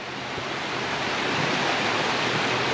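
Cairney Burn, a stream near Powmill, flows in a steady, broadband rush of water that stays even and fairly close for the whole stretch, with no voices.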